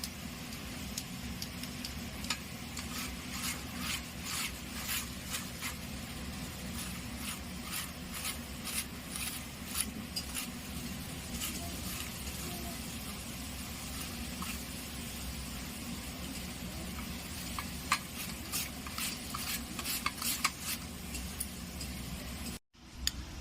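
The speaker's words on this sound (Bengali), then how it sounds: "এইভাবে আমি আলুগুলো গ্রেট করে নেব।" Potatoes are grated by hand for fried potato sticks, a steady rhythmic rasping scrape repeating throughout, close and continuous with a brief clatter near the end.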